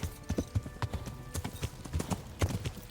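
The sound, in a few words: horse galloping in the video game Kingdom Come: Deliverance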